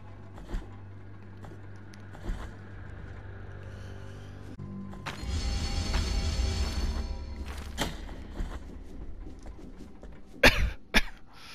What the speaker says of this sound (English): Man also can't stop coughing for some reason.